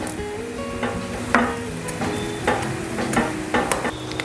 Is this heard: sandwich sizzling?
yes